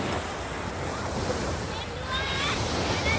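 Sea waves washing onto a beach at Sattahip, Thailand, a steady, close roar of surf with wind buffeting across the microphone, continuous and loud throughout.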